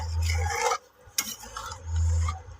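Chicken rezala being stirred in a pan with a spoon, two scraping, rubbing passes with a short gap between them, close and fairly loud, with no voices.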